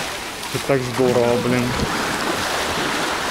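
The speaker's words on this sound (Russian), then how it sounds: "Не, такие волны" Sea waves wash onto Avsallar beach in Turkey, a steady broad surf rush with someone speaking briefly over it.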